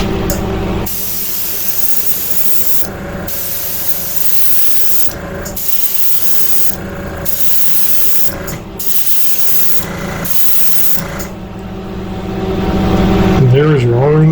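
Spray paint coats go onto a STORM V38 model in repeated long hissing bursts separated by short pauses, loud and close, with a brief rising whine near the end.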